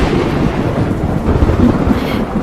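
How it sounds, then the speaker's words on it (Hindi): Heavy rain pours down with a low, rolling rumble of thunder underneath, a dense and loud wash of storm noise sustained evenly from start to finish. "अचानक फिर से एक बार जोर की बारिश होने लगी"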